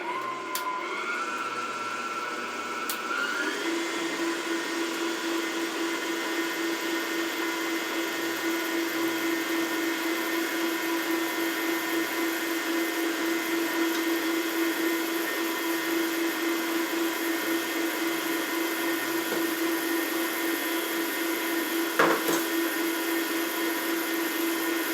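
An electric mixer beats sugar cookie dough, its motor settling into a steady, constant whine after a brief speed change at the start, running close and uninterrupted with no speech.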